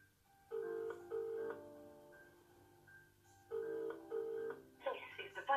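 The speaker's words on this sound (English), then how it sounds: "So we'll call Lee Wilson first." A telephone call on a mobile network: tonal dialing beeps followed by repeated two-part ringback tones, each burst separated by pauses, clear and fairly quiet, ending in a short flurry of higher tones.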